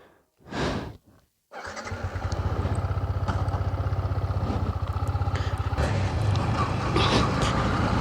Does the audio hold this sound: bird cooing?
no